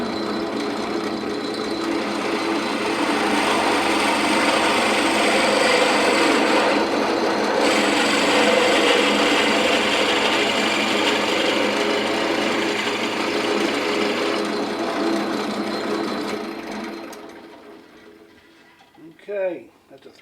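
A 3/4 inch hole drilled about 1.5 inches deep into a wooden birdhouse ornament piece, a long steady grinding whir that stops abruptly, followed by brief talk.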